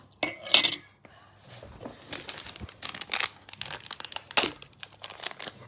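A yeast mixture stirred by hand in a container for a volcano experiment, with irregular scraping, clinking and crinkling bursts spread through the clip, close and fairly quiet.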